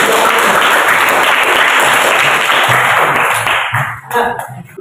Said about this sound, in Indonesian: mari beri aplaus untuk kita semua